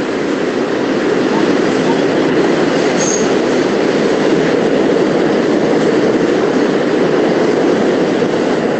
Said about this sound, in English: That is what I have to hear every time I'm in the train station.